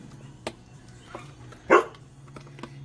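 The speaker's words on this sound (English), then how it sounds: "of course the dog is gonna bark every time I start." Indoor dog barking, with one loud sharp bark in the middle and a few fainter yips and knocks around it, no talking.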